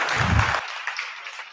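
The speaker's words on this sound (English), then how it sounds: "let's give Cindy a round of applause" A live audience breaks into brief applause after a science talk, a dense burst of clapping that cuts off abruptly and leaves faint room noise behind.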